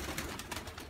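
Pigeons coo softly in a few low, murmuring pulses, fairly faint and somewhat distant, with no talking.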